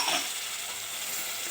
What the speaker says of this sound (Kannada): ಈಗ ಇದನ್ನು ಎಣ್ಣೆಯಲ್ಲಿ ಸ್ವಲ್ಪ ಫ್ರೈ ಮಾಡ್ಕೊಬೇಕು.